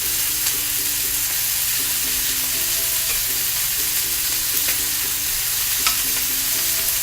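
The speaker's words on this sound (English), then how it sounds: "You want to hear that sizzle when the pan goes on" Steaks sizzle steadily in a hot pan, a continuous close frying hiss with crackles and occasional sharp pops throughout, while a faint tonal hum runs underneath.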